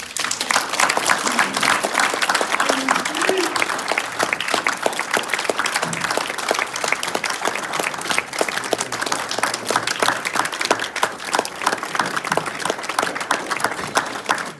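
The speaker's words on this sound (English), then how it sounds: "Give them a round of applause, please." Sustained clapping from a banquet crowd at a Vietnam veterans' cavalry reunion, a steady wash of many hands with a few faint voices underneath, lasting the whole stretch at a moderate level.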